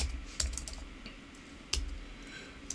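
Computer keyboard typing while entering code for a Drupal 9 config page form, a few sharp clustered keystrokes near the mic, separated by quiet pauses.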